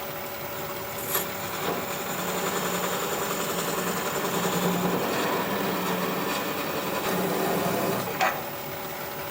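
A wood lathe spins at about 500 RPM with a steady, moderate mechanical hum and faint whirring overtones, broken by a couple of brief sharp ticks.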